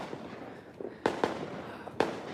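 Fireworks and firecrackers go off on Christmas Eve in El Salvador, heard from a house screened by trees as distant pops with three sharp louder bangs among a steady crackling background.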